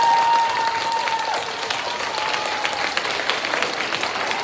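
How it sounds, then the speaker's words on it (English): Applause from children and staff at an elementary school Veterans Day assembly, a dense steady clapping wash that fades slightly, alone without talk. "let's give a round of applause to our three that are here with us right now"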